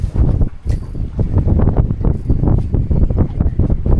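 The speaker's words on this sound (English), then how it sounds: "That wind has picked up sheer rocking." Strong wind buffets the microphone aboard a fishing boat out at sea on a squid-fishing trip, a loud, continuous gusty roar with rumbling surges and no speech.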